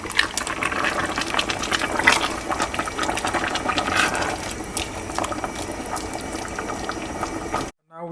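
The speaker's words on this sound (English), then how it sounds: "And as you can see, everything's come to a boil." A pot of beef stew bubbling at a steady rolling boil, continuous close gurgling and popping that runs unbroken before stopping abruptly near the end.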